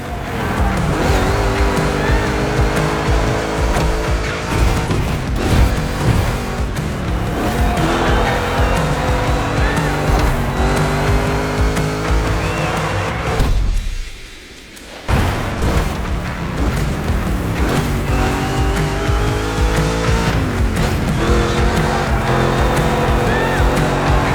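A Mustang GT race car in The Crew Motorfest roars loud and steady through a two-lap race, its engine revving and shifting, with tires squealing and a brief drop-out midway before the engine noise surges back.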